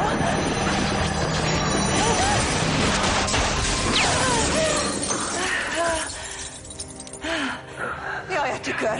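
A mirror smashes and shatters in a loud crash, glass fragments clattering and tinkling for several seconds before the noise thins into scattered debris and brief voices.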